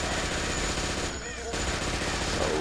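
Gunfire in Blood: Fresh Supply rattles as rapid continuous automatic shots, dense and loud, with a brief dip in the middle.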